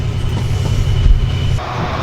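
A train passes at Leamington railway junction on the Chiltern main line, a loud, close, low rumble of wheels and carriages that fades slightly toward the end.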